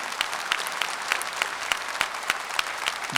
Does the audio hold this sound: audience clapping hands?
yes